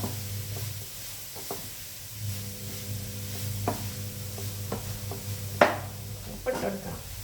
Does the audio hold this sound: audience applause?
no